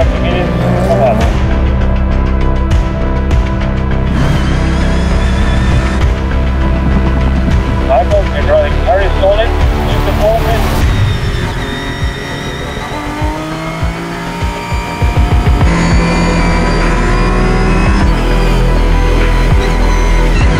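A race car pulls out of the Le Mans pit lane, its engine droning loud and close with steady harmonic tones that waver and climb as it accelerates, while voices talk over it throughout.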